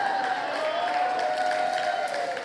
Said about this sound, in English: Those are Colombians that are cheering.